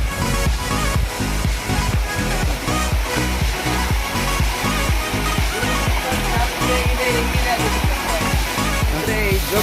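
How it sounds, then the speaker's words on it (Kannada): A small waterfall on the way up to Jog Falls roars steadily and loudly with a dense, continuous rush and no breaks. "ಮಿನಿ ಫಾಲ್ಸ್ ಬನ್ನಿ ಇಲ್ಲಿ ಹೆಂಗಿದೆ ಅಂತ."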